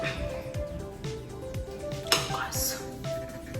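Cake batter being stirred in a bowl, with a spoon or whisk scraping and clinking against the sides in quick repeated strokes, fairly close but soft, and a sharper clink partway through.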